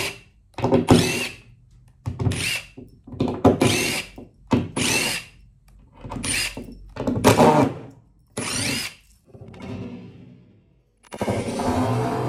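Power drill backing screws out of wood on a carpentry job, several bursts of whirring separated by short pauses, close and loud, with a longer steadier run at the end.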